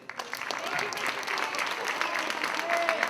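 An audience at a school career and technical education awards ceremony claps for the teachers, a brief, moderately distant burst of steady applause.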